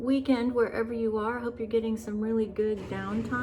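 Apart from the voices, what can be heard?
No distinct noise like a dog, phone or traffic.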